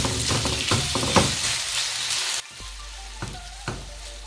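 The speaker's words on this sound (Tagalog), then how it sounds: "Now it's time to cook our bacon." Bacon sizzling in a hot wok over medium heat, a dense steady crackle with a few sharper pops, dropping to a quieter sizzle partway through, close and alone.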